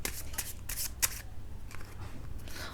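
Tarot cards are shuffled and handled during a reading, with quick papery riffles and soft flicks in short bursts, close and fairly quiet with no talk.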